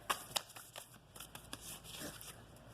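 A deck of Moonology oracle cards is shuffled by hand up close: quick, soft riffling flutters and snaps in a short burst, fairly quiet, with no voice.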